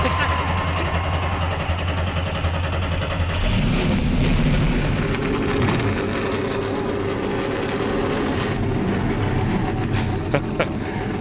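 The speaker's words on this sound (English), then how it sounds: "start your engines." Stock cars fire up their engines on the grid at the 2012 Auto Club 400 NASCAR race, the low rumble swelling into a loud, sustained roar of many idling and revving motors, with crowd and announcer noise beneath.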